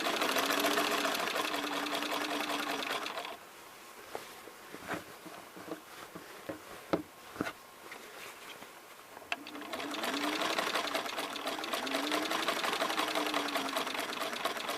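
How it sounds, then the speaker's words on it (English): A sewing machine stitches a fabric seam in two steady runs of rapid mechanical whirring, with a quieter stretch of soft clicks and handling between them. "use the stiletto to help get it into the machine. Take just a few stitches"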